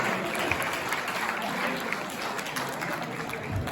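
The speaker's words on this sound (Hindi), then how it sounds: "एक बार विनोद जी के लिए और जोरदार तालियां हो जाए।" Audience clapping at a Hindi comic poetry gathering after a humorous poem is recited, a dense, even wash of applause held at steady volume throughout.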